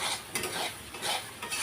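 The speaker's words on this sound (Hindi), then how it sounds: "थोड़ा चला लेते हैं" Desi chicken curry with softened tomatoes is stirred in a pot, with scraping and clinking of a utensil against metal over a faint sizzle, close up and without voices.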